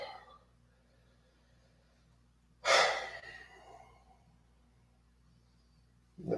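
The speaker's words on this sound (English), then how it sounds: "Push the air down and out. Exhale." A slow, audible exhale of breath during a yoga routine, one long breathy release in a quiet room, followed later by the start of another breath.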